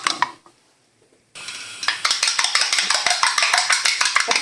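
An egg being beaten in a bowl with a utensil, a quick steady run of clinking taps against the bowl that starts after a brief pause and keeps a fast even rhythm, close and clear.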